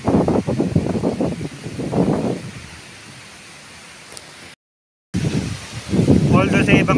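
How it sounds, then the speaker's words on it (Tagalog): Strong typhoon wind blowing over a rural farming village in Southern Nueva Ecija during Typhoon Pepito, a steady broadband roar that rises between stretches of someone talking and briefly cuts out. "Medyo may kalakasan ng hangin."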